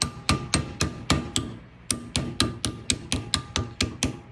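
A steel cap tapped into a hand-forged Damascus canister: about fifteen sharp, ringing metallic hammer blows in a steady rhythm, with a brief pause after the first six, close and clear.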